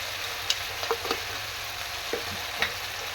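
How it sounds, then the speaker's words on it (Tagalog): Food with pepper being stirred in a frying pan on the stove, spoon scraping a few times over a steady close sizzle, no voices. "konting mekos-mekos"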